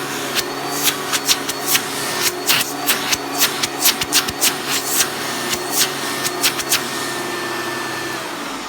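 A Hoover Turbopower 3 upright vacuum cleaner runs through a suction test, giving a steady, close, full-bodied drone with a rapid series of sharp clicks and rattles over it, and no talking.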